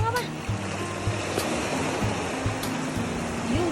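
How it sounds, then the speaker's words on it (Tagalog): Steady wash of sea surf on a calm shore fills the background without a break, while people talk loudly over it nearby. "maririnig mo ang ingay ng dagat"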